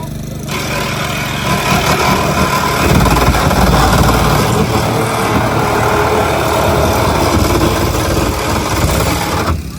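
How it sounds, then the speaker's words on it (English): Power saw cutting into a car during a fire and rescue road traffic collision demonstration, a loud, steady, high-revving engine whine with grinding noise that starts abruptly and holds for nearly ten seconds. "We start cutting, we've got the saw in play now."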